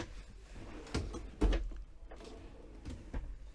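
Push-to-open kitchen drawers and cupboards in a Warners Lincoln show caravan thump and click quietly several times at uneven intervals, each a soft close knock heard alone.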